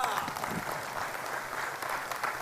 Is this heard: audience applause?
yes